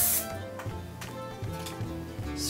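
Hairspray hisses briefly onto lifted hair at the start and again at the end, two short soft bursts over a low background hum.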